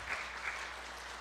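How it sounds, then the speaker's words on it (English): A gathering claps for kids in a round of applause, a faint, steady wash of many hands with a couple of brief louder bursts, heard at a distance. "Let's give these kids a round of applause here."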